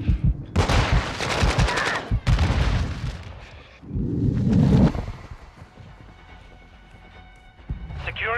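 Rapid automatic gunfire and booming explosions from a Call of Duty: Modern Warfare II Domination match, loud bursts in quick succession, mixed with game voice callouts and then a quieter stretch with a faint rising whine at the end.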